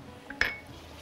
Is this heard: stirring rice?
yes